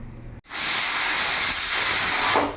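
A pressure cooker holding rice and potatoes whistles, a loud continuous hiss of escaping steam that bursts on suddenly and holds for about two seconds before easing.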